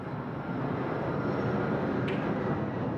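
Broadband roar of an airplane passing low overhead on one of some 200 daily flights, loud and sustained throughout, heavy rumbling filling the whole short stretch with no voices.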